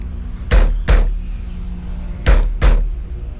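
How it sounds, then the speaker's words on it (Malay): Hands knock a steering wheel loose on a Perodua Myvi, landing four loud, close thumps in two quick pairs with a short pause between, each hit booming and hollow, with no talk. "Sekarang ni kita kena ketuk sikit."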